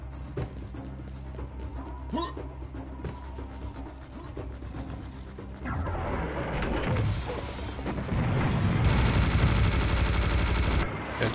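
Gunfire in the co-op shooter Serious Sam HD: The First Encounter, rapid repeated shots building into dense, loud sustained bursts and explosions, with players talking briefly.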